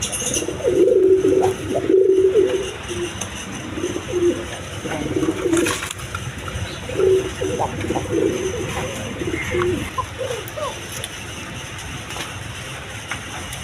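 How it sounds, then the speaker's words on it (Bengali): A pair of kokka pigeons at a pigeon seller's coo repeatedly in low, rolling phrases, close and moderately loud, with faint voices and background noise around them. "এখানে এক পেয়ার কোকা কবুতর আছে এগুলো ডাক ডোকে"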